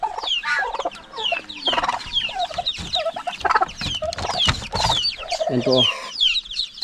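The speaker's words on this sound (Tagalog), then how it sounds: "Pabo, pato, saka manok." Turkeys, ducks and chickens mixed together in a farm pen with new chicks, a busy overlapping chorus of clucks, gobbles and quacks close by, with a person briefly speaking.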